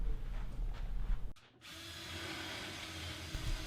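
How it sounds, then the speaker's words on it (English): A power drill cuts a sink hole through a laminate countertop, a steady close whir and grind that drops out briefly and resumes with a rougher cutting tone. "Made quick work of cutting the hole for the sink using a drill and a jigsaw."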